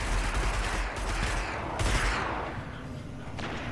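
Gunfire in the Destiny multiplayer match, loud bursts of rapid weapon fire with several sharp bangs in quick succession, close and dense over a few seconds with no talking.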